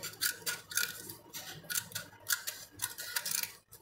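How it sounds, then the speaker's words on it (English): Scissors snipping paper for a handmade birthday gift, a series of quick crisp cuts in an irregular rhythm, close and fairly quiet, with no talking. "Now I cut it."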